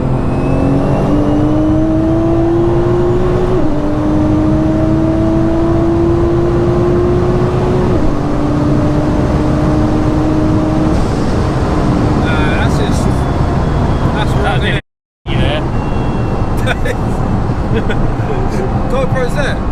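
A 1100bhp JM-Imports Nissan GTR accelerating hard through rising gear pulls, its exhaust roaring loud and close with sharp shift breaks, then a brief dropout before the engine drone continues under occasional talk.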